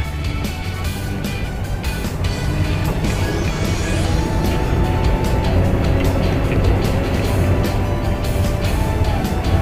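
A car accelerates during a driving lesson, a steady engine hum and road noise with a rising drone as the driver presses the gas, heard from inside the cabin without speech.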